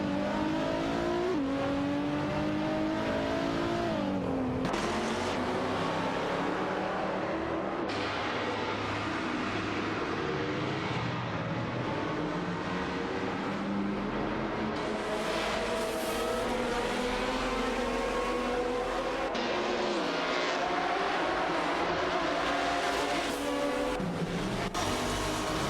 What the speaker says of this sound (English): The competition is heating up as the AI-driven cars jockey for position on the track.